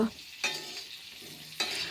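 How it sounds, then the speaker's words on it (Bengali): Cauliflower and potatoes fry in a pan under a low sizzle, broken by two sharp scraping stirs of a spatula. "লাল লাল করে ভেজে নিয়েছি ফুলকপি আর আলু"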